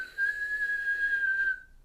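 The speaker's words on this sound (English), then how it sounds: "kind of like a whistling." A person inhales slowly through puckered lips in a breathing exercise, producing a thin, steady whistling tone that holds for about a second and a half before fading out, close and quiet with no talk.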